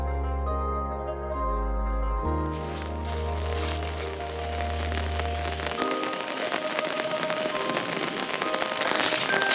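Light rain falls at a Kyoto shrine among tall trees and moss, a soft steady patter that spreads into a dense hiss after a brief low tonal hum at the start.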